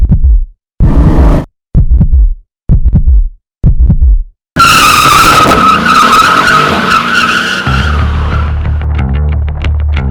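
A Mercedes-Benz E63 AMG on the Buddh International Circuit: five short, loud tyre squeals in quick succession, then a sustained skid with the engine revving hard, the squeal fading into a lower roar.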